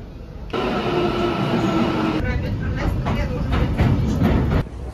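Loud, steady rumble of a metro train in Turkey in motion with rattling wheels and a rising whine, heard from inside a carriage, ending abruptly near the end.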